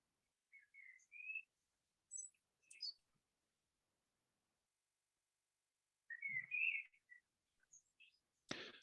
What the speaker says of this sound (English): it is wonderful to hear the birdsong behind you, Neil